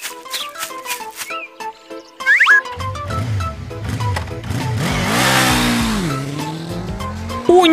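Toy cartoon motorcycle, a Playmobil bike, revving loudly as it is ridden away in a theft, a rising and falling engine whine over cartoon music and effects.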